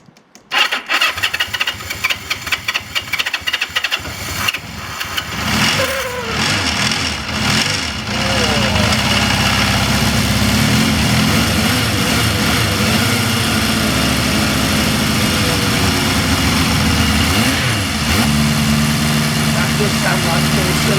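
A classic motorcycle's four-cylinder engine, newly swapped in with a fresh battery, cranks on the reluctant starter, stumbles, then catches and runs at a loud, steady idle close by, with a person talking over it.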